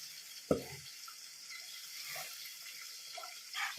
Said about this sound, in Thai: ใส่น้ำนี่เอะนี่แหละค่ะ เพราะว่าเขาจะดูดซึมน้ำเข้าไปในเนื้อ ของเส้นด้วยนะคะ